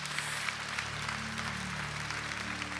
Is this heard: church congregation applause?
yes